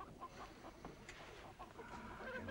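A hen clucks in short repeated bursts, fairly close, over a steady background of farmyard noise, with no talking.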